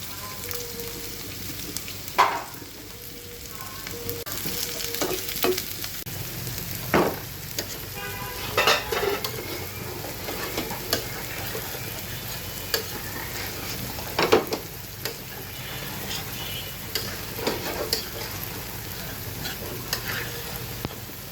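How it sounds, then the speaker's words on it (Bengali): Chopped onions fry in oil in a pan under a steady sizzle, broken by frequent scraping stirs and occasional clinks of a utensil against the pan. "এখন আমি পেঁয়াজ কুচি এটা আমি একটু বেরেস্তার মতো ভেজে নেবো"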